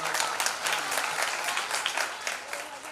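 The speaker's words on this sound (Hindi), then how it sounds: "पधारिए के लिए जोरदार तालियां।" Dense applause from a crowd of devotees at a Hindu religious gathering, steady and continuous throughout with some faint voices beneath it.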